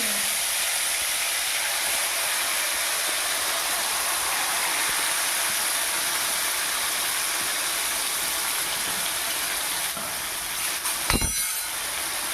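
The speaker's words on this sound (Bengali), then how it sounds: "গরম হয়ে গেছে এবারে মেখে রাখা মাংস কড়াইয়ে দিয়ে" Marinated chicken for chicken kosha drops into hot oil in a kadai and sets off a loud, steady broadband hiss of frying that lasts throughout, with a brief sharp clatter near the end and no voices.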